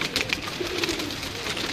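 Pigeons on a rooftop coo softly and repeatedly at close range over a low, steady background hum.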